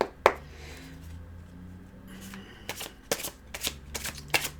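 Tarot cards shuffled by hand in a series of crisp riffling bursts, a sharp snap at the start and then several quick rustling flurries toward the end over faint low room hum.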